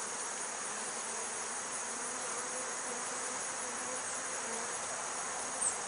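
Honey bees swarming around an open hive frame, a dense continuous buzzing drone close by, steady and unbroken, with no talking.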